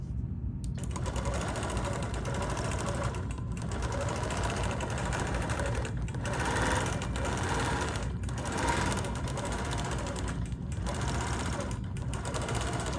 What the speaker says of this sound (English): And then I'm going to just over sew again here to get over here and to keep going across.